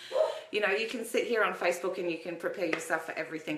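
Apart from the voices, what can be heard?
dogs barking in the room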